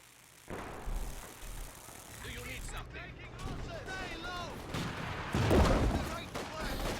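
Artillery and gunfire in a Company of Heroes 2 match: booming impacts and scattered shots under steady battle noise, with a voice talking over it and a louder thump near the end.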